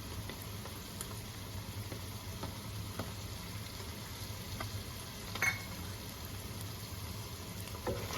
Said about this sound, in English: And then we have hing or asafoetida going in.